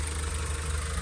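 A Hyundai Porter 2020 with a 2.5 engine idles steadily, a low, even mechanical hum with a faint regular pulse and no speech.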